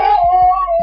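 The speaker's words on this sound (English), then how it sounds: "a dog bark if it sees an animal" A Wyze doorbell chime plays a dog sound effect through its speaker, a short loud synthetic howling whine with a couple of faint thumps underneath, under a second long and without talking.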